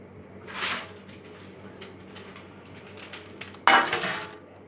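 A metal baking tray is handled among pots and dishes in a home kitchen while a baked chicken dish is prepared. Light clinks and scrapes come in two clattering bursts, the second louder, with no talk.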